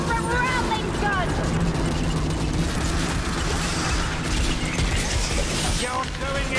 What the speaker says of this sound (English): Taking fire from rattling gun.